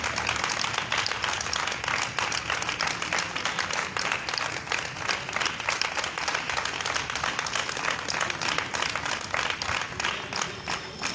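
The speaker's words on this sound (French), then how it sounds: "Acclamons très fort le Seigneur" A church congregation applauds and acclaims the Lord at a Catholic prayer evening at Sainte Rita in Cotonou, with steady, dense clapping from a large crowd that holds for over ten seconds, while a few voices and cheers rise underneath.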